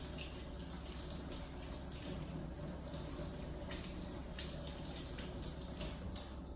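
Running water splashes steadily over a vinyl record being washed at a sink, a continuous close hiss with no break and no voices.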